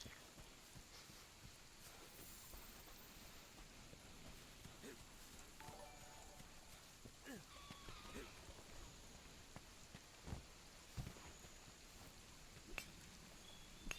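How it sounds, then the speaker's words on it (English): Rain falls in a dark, stormy Monster Hunter: World game scene, a faint steady patter with a few sharper drops and small knocks, no talk over it. "World's rain effect, though, I do have to say, it's not great."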